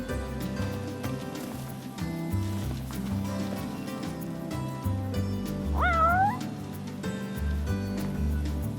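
A cat in Final Fantasy XV gives one short rising meow near the middle, heard over steady background game music.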